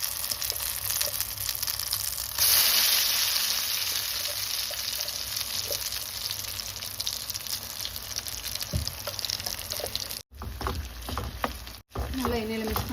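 Curry leaf paste with chana dal and urad dal fries in hot oil, giving a steady, close, loud sizzle with a brief louder burst of spattering and occasional stirring scrapes, with no talk.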